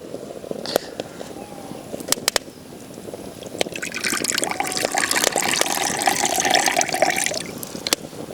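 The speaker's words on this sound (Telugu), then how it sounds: "దీంట్లో కొన్ని నీళ్ళు పోసుకుందాం" Water is poured into a clay pot set on a stove, making a rushing, splashing stream that starts midway and runs for several seconds after a few faint drips and knocks.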